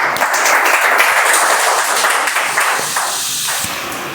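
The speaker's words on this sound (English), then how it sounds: "Let's give a huge round of applause to guest Ranjit." A room of Toastmasters meeting attendees applauds a guest speaker, sustained crowd clapping that stays full for several seconds before slowly thinning toward the end, no voices on top.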